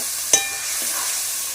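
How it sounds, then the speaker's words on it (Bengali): Spices with Kashmiri chilli powder fry in oil in a pan while fish is being cooked, a steady close sizzle broken by a single sharp clink of a utensil early on, with no talking. "দিয়ে প্রত্যেকটা মশলাটাকে একেবারে খুব সুন্দর করে ভালো করে ফ্রাই করে নেব।"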